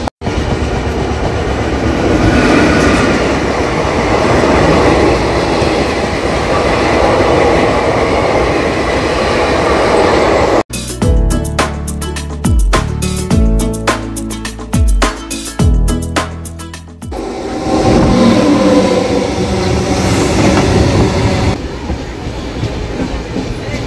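An LHB sleeper coach of train 19305 runs along the tracks with a loud, steady rumble, then a burst of rapid clickety-clack over joints and points before the smooth roar returns.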